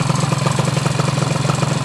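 A 2014 Honda Dio scooter engine idles close by, a loud steady putter with an even rapid pulsing beat and no talk over it.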